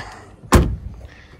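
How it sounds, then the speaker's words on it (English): A Mercedes A180 CDI's central door locks actuate in one sharp, loud mechanical clack that rattles briefly, heard close up with no talk. "these door locks kind of sound like machine guns"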